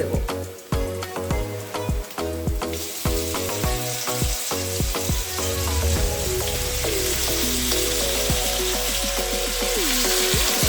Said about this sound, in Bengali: ম্যারিনেট করা চিকেনটাকে পুরো এর মধ্যে আমি অ্যাড করে দিলাম